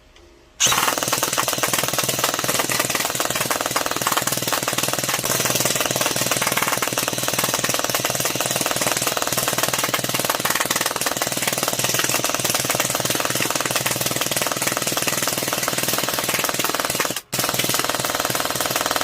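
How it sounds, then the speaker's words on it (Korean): Sustained rapid-fire rattling of a Scorpion electric airsoft gun firing gel beads on full auto, loud and continuous for many seconds, with a brief pause near the end. "이제 탄창을 바꾸고 연발 사격을 해보겠습니다"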